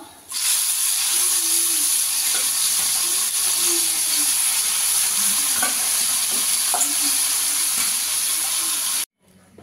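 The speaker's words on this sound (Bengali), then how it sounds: "বাকি মাছগুলো ভেজে নেব।" Amudi fish frying in hot oil in a pan, giving a steady, close sizzle with soft stirring noises that carries on without a break and cuts off just before the end.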